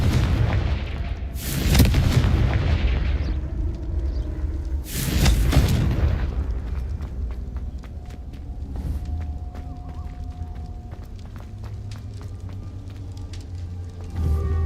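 Confringo fire spell blasts in Hogwarts Legacy, two loud booming explosions close together early on, followed by a rumbling combat bed with smaller impacts and a final burst at the end.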